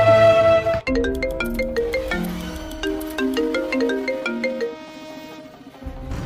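A melodic electronic phone ringtone plays a repeating tune of bright chiming notes, clear and close, with no voices.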